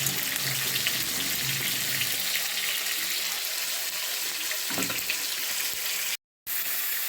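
Onion frying in a pan gives a loud, continuous close hiss that thins slightly partway through, with a couple of faint knocks and a brief dropout of sound near the end.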